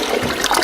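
A toilet flushes with a loud, rushing gush of water, brief and close, the surge filling the whole moment.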